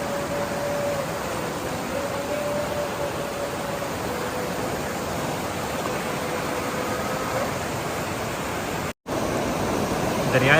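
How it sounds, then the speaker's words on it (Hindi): Continuous broadband rush of the Neelum river's water flowing in Azad Kashmir, a steady even roar filling the whole stretch, with a brief dropout near the end. "दरियाए नीलम का पानी है,"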